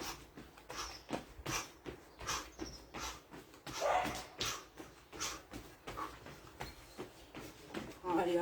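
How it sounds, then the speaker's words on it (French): Dogs bark and yip repeatedly in short, irregular bursts at moderate distance, mixed with faint whimpers and some background voice, during an outdoor fitness session. "les aboiements des chiens"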